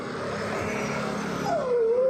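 Hungry street dogs whimper and whine under steady background noise while waiting to be fed, ending in a rising, drawn-out whine.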